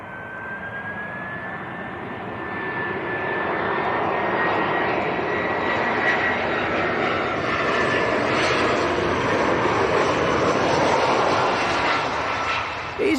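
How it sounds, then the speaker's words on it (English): An EasyJet Airbus A319 at Leeds Bradford Airport: a loud, steady jet engine roar with a rising whine builds and swells over about thirteen seconds as the airliner passes, broad and rumbling, with no talk. "EasyJet A319."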